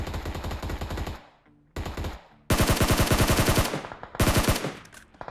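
A SCAR assault rifle with no attachments fires in full-auto in a battle royale shooter game, producing three loud, rapid bursts of close gunfire separated by short silences.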